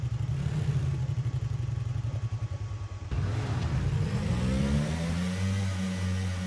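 A vehicle engine in the video game PUBG, first a throbbing pulsing idle, then a rising rev as the vehicle pulls away, fairly close and alone with no talk.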